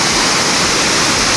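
A powerful waterfall crashes into a pool in a Tasikmalaya forest, heard from two or three metres away as a loud, dense, unbroken roar with no voices.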